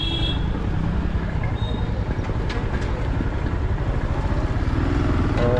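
A Royal Enfield Scram 440 motorcycle rides through city traffic at 20 to 40 km/h. The engine drones steadily and loud up close, with road and wind noise mixed in throughout.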